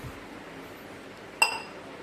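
A single sharp metallic clink as a pot of water for tea is set down on a lit stove, short and ringing over a quiet room background.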